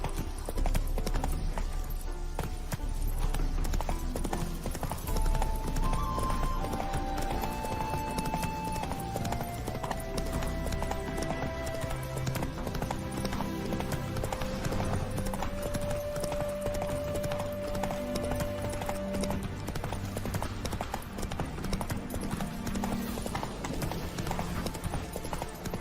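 Roach the horse gallops through The Witcher 3, hooves clip-clopping in a steady rapid rhythm that carries throughout, alongside soft game music and ambience.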